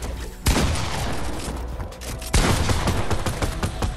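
Heavy bursts of rapid gunfire in a video game, two loud, dense volleys close by, each starting abruptly and rattling on for a second or more.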